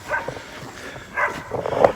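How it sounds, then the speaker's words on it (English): Dogs barking outdoors on a rural property, a few muffled yips and barks at moderate distance, the clearest near the end. "But dogs are barking."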